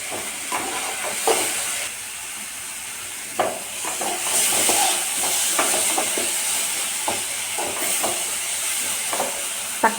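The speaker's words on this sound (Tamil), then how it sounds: "தக்காளி நல்லா வதங்கணும்." Chopped tomatoes sauté in a pan for a kootu dish, a steady loud hiss of steam and sizzling broken by short crackles and stirring clatters, no voices.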